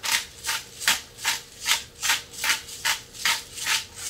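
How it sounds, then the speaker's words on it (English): A pepper grinder being twisted over pan-seared sea scallops gives about nine evenly spaced, gritty grinding strokes, a steady close-up rasp with short gaps between turns and no talking. "That's pink salt and then my pepper grinder."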